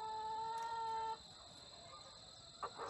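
Chickens clucking faintly at a distance, a few soft calls over steady background hum, with one brief louder sound near the end.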